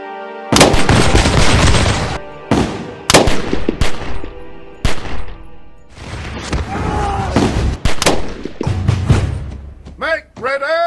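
Volleys of musket gunfire in a reenacted Lexington firefight from the American Revolution, with sharp loud shots repeated every second or two, mixed with shouting and voices and ending in a burst of commands.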